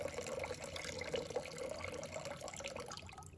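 Steady stream of clean water poured into a clay pot for cooking millet porridge, a continuous soft splashing and trickling at close range without pauses.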